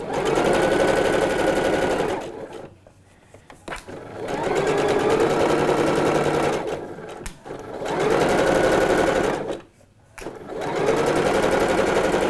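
A sewing machine stitches washed linen shorts, finishing a seam with backstitches: three sustained, loud runs of motor hum separated by short pauses, with one brief spoken word near the end.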